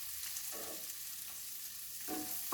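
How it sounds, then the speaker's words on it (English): Steady sizzling of onions frying in a pan, with a couple of brief stirring scrapes and a soft clatter near the end. "So frying the onions until they're"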